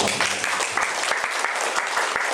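Applause fills a room during an accreditation survey event at a community health centre in Cikadu, a steady dense clapping from a crowd, close and continuous throughout.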